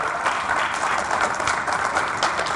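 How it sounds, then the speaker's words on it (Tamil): Audience applause at a Tamil tribute event for Murasoli Maran, a steady wash of many hands clapping at even loudness throughout, with no voices over it. "அவருக்கு பெரிய கைத்தட்டு"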